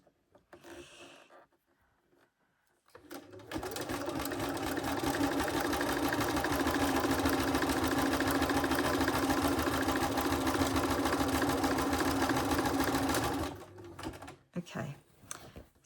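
A sewing machine stitches fabric-wrapped sash cord into a rope bowl, running at a loud, fast, steady rhythmic drone for about ten seconds after a brief quiet start, then stopping with a few soft handling knocks.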